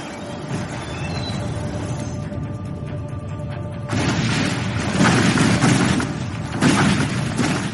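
A catastrophic volcanic hypereruption sounds as a continuous, loud, deep roaring rumble with heavy booming blasts that swell sharply partway through and keep thundering to the end.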